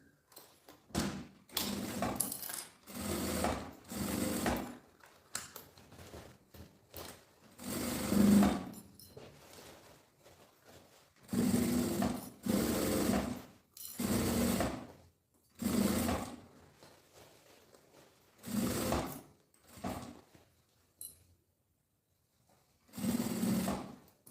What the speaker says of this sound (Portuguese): uma costura com um pé de máquina aqui na boca da nossa bolsa